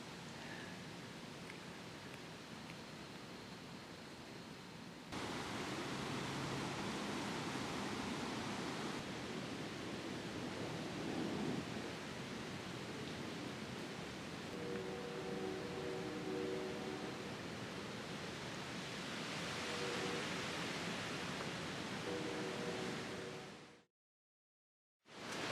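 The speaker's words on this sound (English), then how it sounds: "Wind's great. It's a strong wind. It's breezy." Strong, steady wind rushing past a deer stand in the Minnesota outdoors, a constant broad whoosh that stays loud throughout, with a brief drop to silence near the end.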